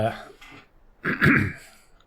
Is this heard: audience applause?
no